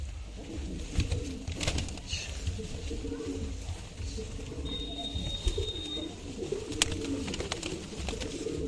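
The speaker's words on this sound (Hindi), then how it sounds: "तो ये देख लो दोस्तों कितने कबूतर हैं ये" A flock of Punjabi pigeons coos softly and repeatedly, a low murmuring chorus close by with occasional rustles and faint background noise.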